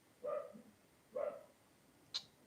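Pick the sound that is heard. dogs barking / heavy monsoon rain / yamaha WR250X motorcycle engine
dogs barking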